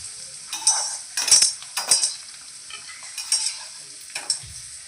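Kachri, a dried snack, frying in hot oil, with a steady sizzle and repeated metal scrapes and clinks as it is stirred in the pan, close and fairly loud, no talking.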